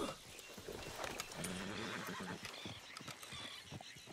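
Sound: horse whinnying in video game

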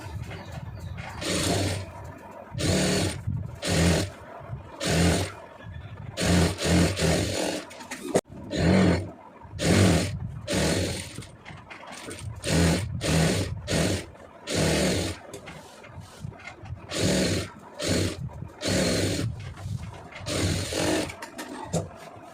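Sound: sewing machine stitching a folded boat neck seam

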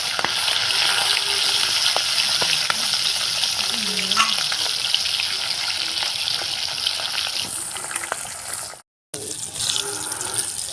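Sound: fish head frying in oil

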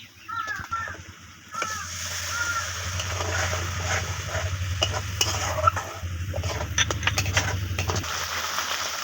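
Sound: water poured into spiced oil in pan for silver carp curry

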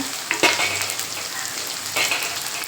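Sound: garlic sautéing in a pan

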